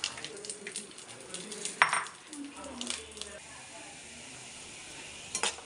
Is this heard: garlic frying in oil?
yes